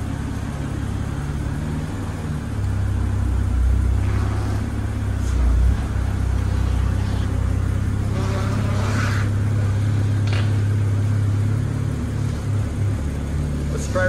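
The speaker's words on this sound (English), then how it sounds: "we're gonna see if the mystery BMW will drive under its own power." A BMW 328i engine runs steadily as the car drives under its own power, a low continuous hum heard from inside with road rumble and faint mechanical noises, no clear revving.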